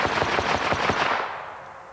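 A 9mm Feather USA semi-automatic carbine firing a fast string of loud, close shots that blur together with heavy echo, then a fading reverberant tail.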